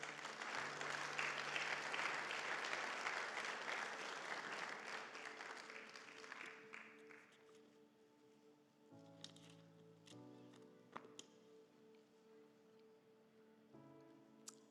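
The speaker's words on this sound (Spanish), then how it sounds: "Démosle un aplauso fuerte al Señor" Church congregation applauding at a Spanish-language sermon, a broad wash of clapping that starts loud and fades out by about seven seconds, leaving quiet room tones and faint sounds, with organ- or keyboard-like sustained notes underneath.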